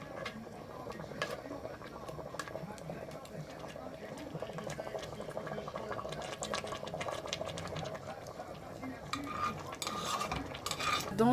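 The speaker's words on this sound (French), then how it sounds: "on laisse mijoter" A pot of Caribbean vegetable stew stirred as it simmers, with steady bubbling and scraping under continuous French speech, growing slightly louder toward the end.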